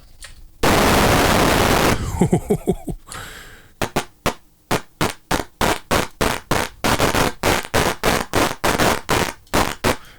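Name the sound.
synthesizer noise oscillator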